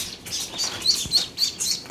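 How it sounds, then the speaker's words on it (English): Ducklings being moved to a brooder: a rapid series of high, thin peeping chirps overlapping near at hand, with soft rustling between calls. "that's lots of ducks"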